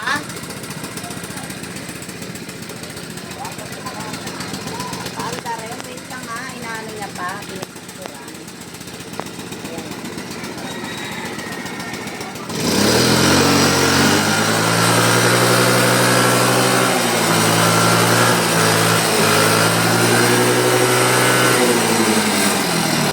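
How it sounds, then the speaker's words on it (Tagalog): A small Choi Nori engine, freshly refreshed, revs loudly and roughly after starting midway, a rattly idle rising and falling in pitch; quieter background noise and faint voices come before it. "ipaparinig ko na sa inyo ang tunog ng kanyang makina"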